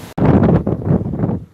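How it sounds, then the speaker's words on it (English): Strong wind buffeting a microphone outdoors on a rainy, windy day, a loud continuous roaring rumble with brief gusty surges, close and overpowering, with no speech heard. "It is windy, and it was raining a few minutes ago, but it's just basically just windy now."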